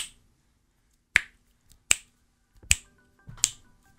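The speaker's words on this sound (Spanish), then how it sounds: "Los mismos chasquidos." Four sharp, crisp finger snaps close to a Hyper Quadcast S microphone, evenly spaced with silence between them.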